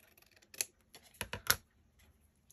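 Scissors fussy-cutting paper for crafts, a few sharp close snips in quick clusters with quiet gaps between them, with no talking.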